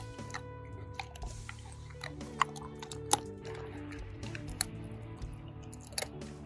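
Wolf dogs gnawing a raw deer head and skull outdoors, with steady wet chewing and several sharp bone crunches standing out at close range, no talking.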